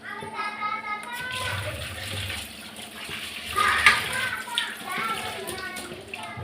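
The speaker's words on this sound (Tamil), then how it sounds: "இப்போ இந்த நெல்லிக்காவை நான் நல்லா கழுவிக்கிறேன்." Indian gooseberries (amla) being washed by hand in a vessel of water in a home kitchen, giving a steady close splashing and sloshing with a brief louder slosh midway, while voices talk in the background.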